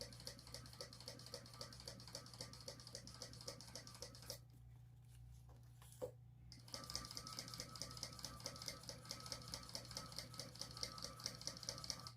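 A sewing machine top stitches along a folded fabric edge, running in a steady continuous whir with a fast stitching rhythm, briefly pausing once before resuming, loud and close with no talk.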